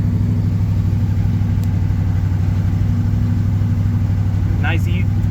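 A 1954 Chevy 3100 pickup truck on an evening drive, its low engine rumble droning steadily from inside the cab, with a brief faint clatter near the end.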